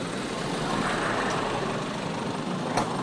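A bus rumbling past on a roadside, a steady broadband engine and road noise that holds at a moderate level throughout without talk.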